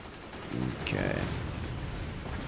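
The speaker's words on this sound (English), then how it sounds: "Oh, that shotgun blast, so chonky." A single heavy shotgun blast fires in the artillery strategy game Forts, a short broadband burst with a brief whistling sweep, set against a steady bed of in-game battle noise.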